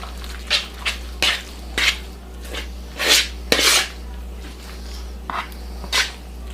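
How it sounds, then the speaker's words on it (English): A spoon stirs crab and Swiss quiche filling in a bowl, giving repeated scraping clinks at an irregular, fairly brisk rhythm against a steady low hum, with no talking. "I want to mix all this very well. Get rid of this fork and use a spoon."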